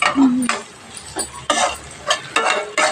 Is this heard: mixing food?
yes